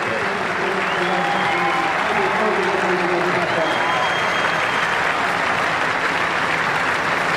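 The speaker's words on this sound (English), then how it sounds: "The crowd love it." Cricket crowd at Adelaide cheering and applauding steadily after Ganguly's dismissal for 141 against Pakistan, a dense, continuous roar of clapping and shouting throughout, with a commentator's voice faintly underneath.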